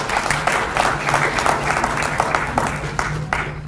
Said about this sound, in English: we should give a round of applause to everybody who came up to speak today